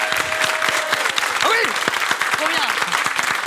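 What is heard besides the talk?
audience applause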